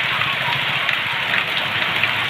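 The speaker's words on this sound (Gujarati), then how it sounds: "ધોધમાર વરસાદ છે" Heavy monsoon rain pours down over villages of Savarkundla taluka, a dense, constant hiss of drops on surfaces that stays loud and even throughout with no pauses.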